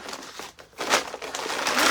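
A plastic feed sack crinkles and rustles as it is turned inside out, with loud bursts of crumpling rising and falling in quick irregular handfuls close by.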